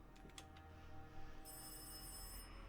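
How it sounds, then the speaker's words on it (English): Telephone ringing inside the game Rise Of Insanity, a thin, high electronic ring that starts partway through and holds steady, faint over a low humming ambience with a few soft ticks before it. "I hear a phone."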